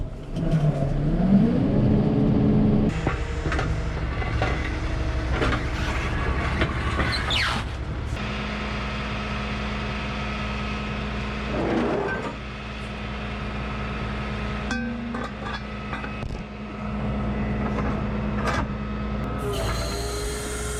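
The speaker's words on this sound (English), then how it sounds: "I'm pretty sure I'd get it loaded faster if I do it on the wheel lift" A tow truck wheel lift loads a car: a continuous loud engine and hydraulic drone with whining pitch changes, clanks and metallic rattles throughout, close and without talk.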